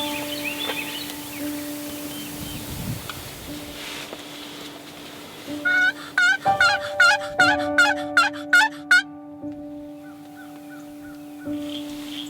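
Wild turkeys gobble back and forth during a spring turkey hunt, a run of loud, rapid, rattling gobbles in the middle of the clip standing out over steady background hum and quieter distant calls.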